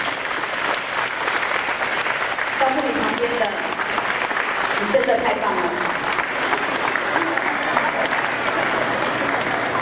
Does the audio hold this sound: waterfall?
no